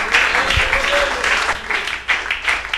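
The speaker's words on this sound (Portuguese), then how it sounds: "Então bate as palmas para Jesus," A church congregation claps in praise during an evening sermon, dense overlapping handclaps that swell and dip in bursts, with faint voices mixed in beneath the applause.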